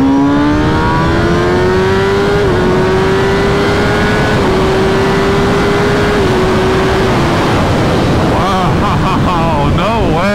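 Motorcycle accelerating hard through a second-gear pull with a quick shifter, a loud, steadily rising engine whine broken by brief shift steps, with wind roar throughout and voices around it.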